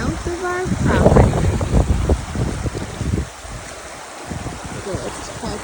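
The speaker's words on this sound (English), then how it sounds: "We found the stream just south of our property." A flowing creek in a remote stretch of Interior Alaska gives a steady washing murmur, with rustling and handling noise louder at the start and then easing off.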